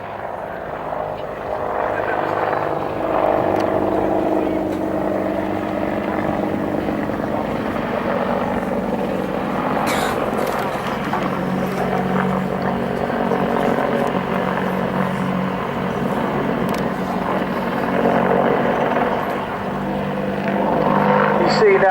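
An Apache attack helicopter at an air display makes a steady, loud rotor and turbine roar throughout, swelling slightly as it manoeuvres through a nose-down turn.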